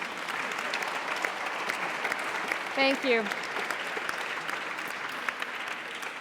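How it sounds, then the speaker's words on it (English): Conference audience applauding at a crop diversity event, a steady wash of clapping from many hands at even loudness, with a brief spoken thanks from a voice briefly heard over it midway. "This is your round of applause."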